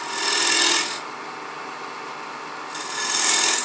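A turning tool cuts a cove into spinning wood on a lathe at about 1200 rpm, two bursts of harsh scraping rasp separated by the quieter hum of the lathe running.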